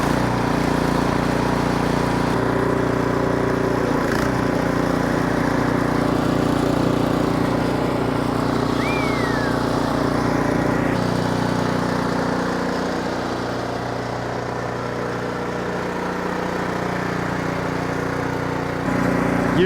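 An Ariens Professional 32-inch snowblower engine runs steadily after being started with the choke on, giving a continuous loud mechanical drone that barely changes through the clip.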